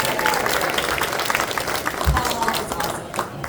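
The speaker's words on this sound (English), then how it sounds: "Give them a round of applause for handling the sound all day" A convention panel audience at a Dragon Ball panel applauds the sound crew, a sustained wash of many hands clapping with scattered cheers and some voices mixed in, fairly close and steady throughout.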